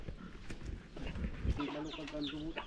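Chickens at a rural Philippine home cluck in short repeated calls close by, mixed with background voices and household noise.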